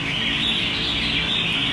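A caged songbird chirps and trills in a steady high-pitched stream over low background noise, close and fairly clear, with no talking.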